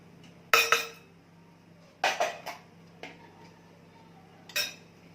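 A spoon clinks against a bowl while a spoonful of starch is added to milk for a coating batter, with several separate sharp metallic taps in short clusters, close and clear.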